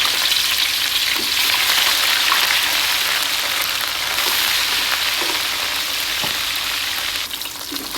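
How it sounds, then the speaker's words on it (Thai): Steady, loud sizzling and crackling of sea bass frying in hot oil in a pan, continuous throughout with no talking. "น้ำมันร้อน เราก็นำปลากระพงลงไปทอด"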